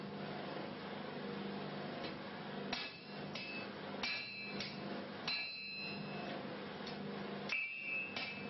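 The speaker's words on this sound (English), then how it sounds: "the blade can be chiseled off directly on the anvil chisel" Hammer blows chiseling a sword blade off on an anvil chisel, several sharp metallic strikes spaced irregularly over a steady low background drone.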